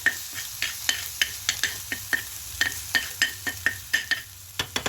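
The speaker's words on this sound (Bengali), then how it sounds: "এবার খুব ভালো করে একটু ভেজে নেব" Vegetables frying in a pan are stirred in quick, regular strokes, each a sharp scrape over a continuous low sizzle, close-up and fairly loud, with no voices.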